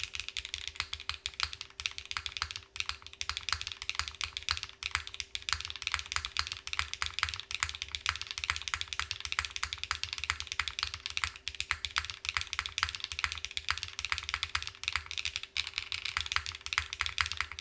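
Fast, steady typing on a Zoom75 TIGA mechanical keyboard with a plastic plate, cork mid foam and GMK keycaps, dense close clacks of keystrokes with a faint constant hum underneath and no talk.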